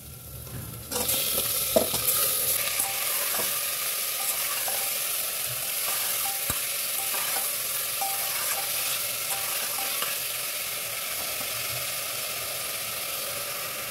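Marinated chicken tipped into a pan of lightly sautéed onions, bursting into a loud sizzle after a quiet start, then frying steadily with scattered clinks and scraping stirs, no voices.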